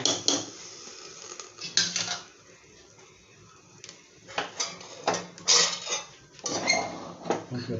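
Metal pots and utensils clank and scrape in several irregular bursts, close by, with quieter pauses between the clatters, as a pot of sambar is handled.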